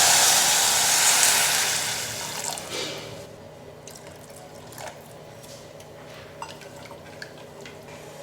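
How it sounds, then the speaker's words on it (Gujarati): Water pours into a soup pot in a loud steady rush for about three seconds, then stops, leaving faint drips and small clinks nearby. "હવે આમાં આપણે 2 કપ પાણી ઉમેરીશું"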